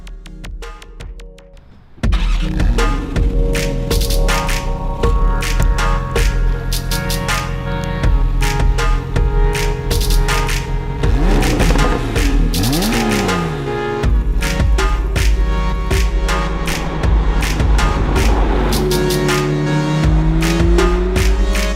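A 2018 Porsche 911 GTS driven hard, its engine loud and close, revving up and down through gear changes with rising and falling pitch sweeps and a sustained strong drone.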